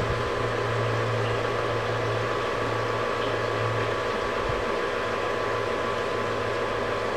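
A pump drones steadily in a home brewing setup with a plate heat exchanger feeding a fermenter, giving a constant close hum with a broad hiss and a low tone that wavers briefly partway through.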